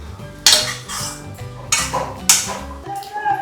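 A metal spoon stirs food in a cooking pot for a home Sunday lunch, making sharp clanks and scrapes against the pot at irregular intervals, close and fairly loud.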